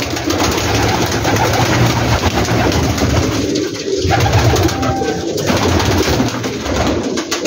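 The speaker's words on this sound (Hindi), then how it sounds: "ये माशाल्लाह चेक करें स्लेटी कबूतर" Grey pigeons coo steadily on a large rooftop loft among many birds, a dense, continuous chorus of low throaty calls that stays loud and close throughout with no voices.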